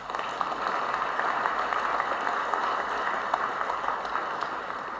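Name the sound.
audience applause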